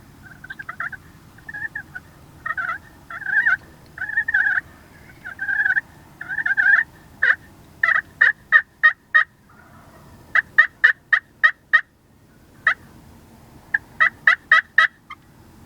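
A fanned-out wild turkey tom gobbles and calls repeatedly outdoors, loud sharp bursts coming in quick clusters with short gaps, clear over a quiet background.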